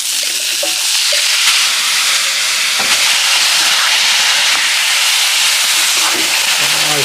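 Chillies and onions frying in a pan for sambar, making a loud, continuous hissing sizzle close up with occasional faint scrapes and no voices.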